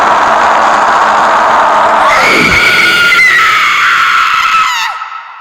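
A woman's loud, sustained scream from a horror story plays for several seconds, rising in pitch with a wavering, shrill edge before cutting off abruptly.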